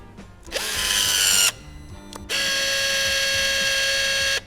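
A Dnipro-M DSG-200 electric caulking gun whirs at its highest speed in two loud, steady bursts, a shorter one followed by a longer one, with a brief quiet gap between them and no talking.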